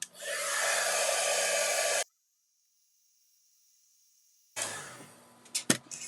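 A hair dryer blows on paint on a card: a loud, steady whooshing hiss for two seconds, then silence, then the blower starts again briefly with some handling clatter.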